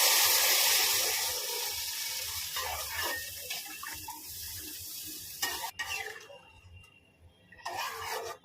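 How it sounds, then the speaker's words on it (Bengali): Water is poured into a pan of frying spiced potatoes, a broad hissing rush that settles into a softer simmer with some scraping and clatter near the end, close and fairly loud, with no talk. "আমি জল দিয়ে দেবো।"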